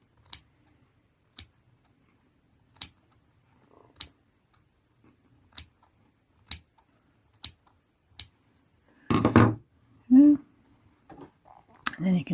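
Scissors snip through the thread loops of fringe stitches with sharp, isolated clicks spaced a second or so apart, close and quiet, followed by soft rustling and brief handling noises at the end.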